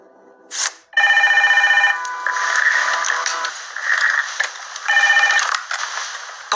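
A telephone rings in a Czech detective audio drama, with repeated electronic ring bursts that nearly fill the clip and short gaps between them, loud and close with no talk over it.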